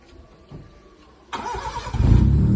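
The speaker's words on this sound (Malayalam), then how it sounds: "ഒന്ന് വണ്ടി സ്റ്റാർട്ടാക്കിയേ" A Honda City car engine cranks and catches partway through, then settles into a louder, rougher running note that builds toward the end. It is close and loud, with no talking.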